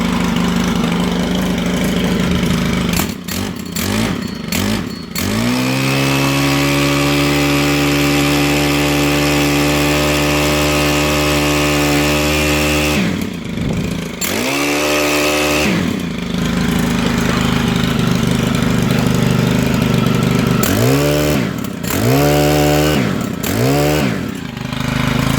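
A STIHL HL100 gas hedge trimmer's small engine idles, then revs up sharply several times in quick bursts before settling back, loud and close throughout.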